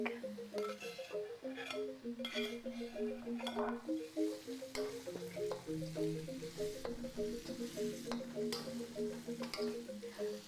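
Shallots and garlic sizzle in a pan while being stirred, a continuous frying hiss beneath steady background music.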